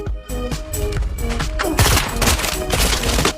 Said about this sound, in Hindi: महिला ने बेतरतीब गोलियां चलाई।